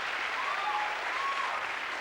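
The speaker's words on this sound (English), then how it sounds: "Round of applause," Audience applause at a 1994 Manhunt Senior pageant in Singapore, a steady dense clapping wash lasting about two seconds, with a faint tonal sweep riding over it.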